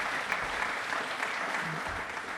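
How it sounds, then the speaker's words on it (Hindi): An audience in a televised Republic Day quiz show studio claps steadily, a dense, even burst of applause throughout. "तालियां बजाइए प्लीज अपने लिए।"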